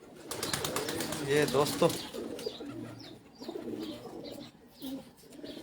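Pipla-breed pigeons cooing on a rooftop loft, soft murmuring calls spread through the clip alongside someone talking nearby.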